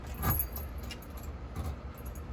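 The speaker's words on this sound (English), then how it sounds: "So I'm testing out these keys on the front door." Metal keys jangle and scrape against a house's front door lock, with a sharp rattle early on and another burst later over a low background hum; no one speaks.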